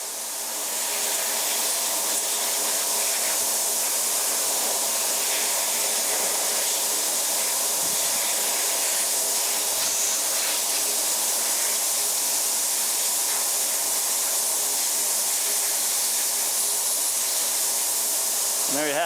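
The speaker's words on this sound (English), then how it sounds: "Hit it with a quick blast of compressed air." A quick blast of compressed air dries a part after ultrasonic cleaning, a loud continuous hiss that swells in and holds steady for the whole stretch with no talking.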